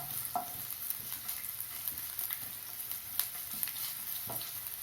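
Chopped ginger being sautéed with capsicum in a pan for a spicy chilli garlic capsicum masala, giving a steady soft sizzle with a few light stirring scrapes throughout.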